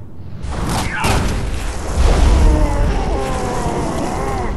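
A cave passage in the Jade Empire game caves in with a heavy rumbling boom, sweeping whoosh and grinding debris swelling and then holding as a loud, sustained rumble.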